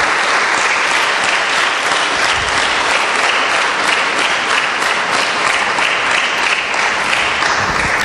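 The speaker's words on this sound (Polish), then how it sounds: "Oklaski zasłużone." An awards ceremony crowd keeps clapping in dense, even applause, loud and continuous from start to finish without any voices.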